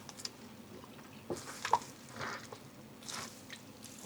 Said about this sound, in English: I will carefully try to gather it to lift it out of the tub without stretching it